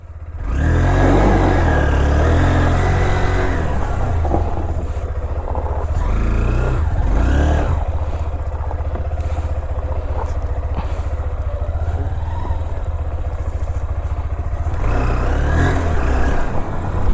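A Honda NX200 motorcycle ridden with traction control switched off, its engine droning loud and steady with rising revs and gear changes, heavy wind rush throughout and no talking.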